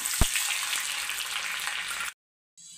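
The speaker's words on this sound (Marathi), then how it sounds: "एकदम छान चुरचुरीत अशी मस्त आपली फोडणी झालेली आहे" Garlic, black peppercorns and cloves sizzle in hot oil for a tempering, a steady crackling hiss with a sharp pop near the start that runs about two seconds before cutting off abruptly.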